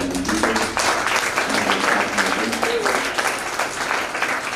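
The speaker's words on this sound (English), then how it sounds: "Please a big round of applause." A big round of applause from the audience at a school expo, loud and continuous clapping with a few voices faintly audible underneath.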